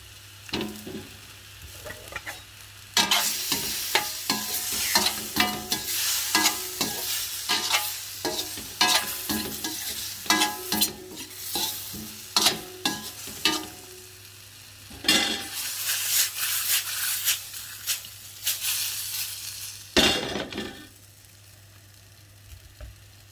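Scallops sizzle and fry in a hot pan with loud bursts of crackling as they go in and are stirred, settling into quieter frying between the busier moments; no talking.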